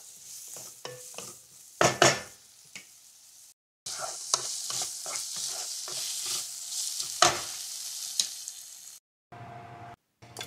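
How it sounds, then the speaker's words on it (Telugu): Paneer fries in a pan while a spatula stirs it. Close sizzling and repeated scraping clatter come in bursts, broken by brief silent cuts. "అందులోనే పన్నీర్ కూడా వేసుకొని ఫ్రై చేసుకోవాలి."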